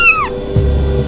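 A kitten gives a single short, bright meow with a falling pitch, close and clear, followed by quiet room tone and a soft low thump.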